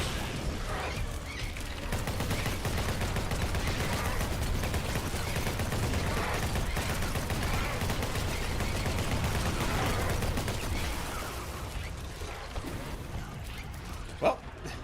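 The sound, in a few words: minigun firing in a video game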